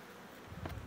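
Honeybees buzzing at a hive, a brief low droning hum that swells louder partway through, close and steady without any voices.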